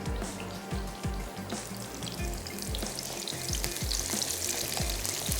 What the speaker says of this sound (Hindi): तो चलें थोड़ा सा प्याज को यहाँ पर सौते होने देते हैं